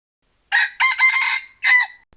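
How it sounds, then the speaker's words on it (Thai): A red junglefowl crows several times in short bursts, a clear cock-a-doodle call broken by brief pauses, standing out alone against a silent background. "เสียงไก่ป่าขันเจียวแจ้วมาแต่ไกล"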